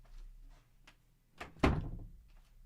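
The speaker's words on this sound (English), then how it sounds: "I'm just going to close my door" A door being shut in a home: a few soft knocks and rustles, then a single solid thunk as it closes, fairly close and alone.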